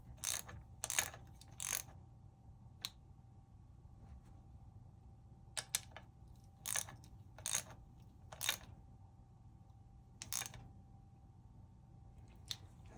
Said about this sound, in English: I'm going to tighten that down.